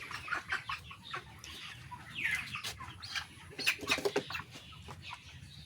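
Chickens clucking nearby in irregular bursts, with brief flurries of wing flapping mixed in.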